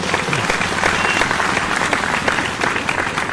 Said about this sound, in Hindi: एक बार जोरदार तालियां हो जाए आप सबकी।